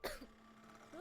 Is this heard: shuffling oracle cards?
no